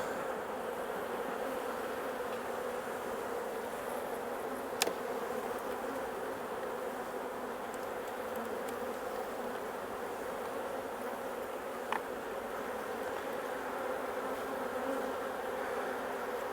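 Honey bees hum in a steady, dense drone while a three-frame nuc hive is opened for inspection. The buzzing stays even and close throughout, with two brief sharp clicks.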